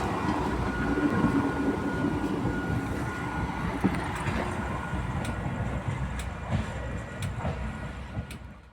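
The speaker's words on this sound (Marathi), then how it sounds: "रेल्वे फाटक लागलं होतं आणि ही चालली आहे पहाटेची 5:30ची ट्रेन" A 5:30 early-morning train rumbles steadily past a railway level crossing, a continuous heavy rolling roar with faint clacking wheel beats, loud and close throughout.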